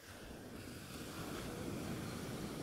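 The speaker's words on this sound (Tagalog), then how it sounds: "Dito nyo makikilala ang alon ng La Union." Ocean surf rolls onto the beach at Bauang, La Union, a continuous broad rushing wash mixed with wind buffeting the microphone, with no distinct individual breaks.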